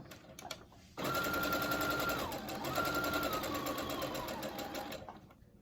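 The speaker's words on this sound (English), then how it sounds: "I'm going to just lift up my fabric to make sure that my elastic is not in the way, and I'm going to sew" Sewing machine stitching elastic onto a fabric mask: a sudden start into a steady close whirring hum with a rapid needle rattle that dips briefly in pitch midway and then slows to a stop, with no talking.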